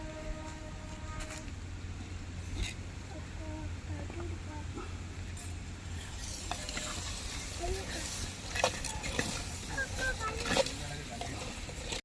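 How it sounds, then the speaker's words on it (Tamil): Mutton gravy in a clay pot, with a low steady bubbling simmer and occasional scraping stirs, plus a faint voice in the background. "திறந்து லைட்டாக ஒரு ட்ரிப் கிண்டிக்கிறோம்"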